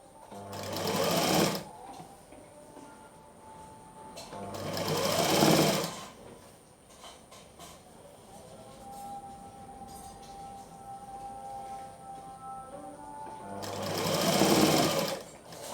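An electric sewing machine stitches fabric piping along a quarter-inch seam, running in three separate whirring bursts of a second or two, each separated by several seconds of quiet.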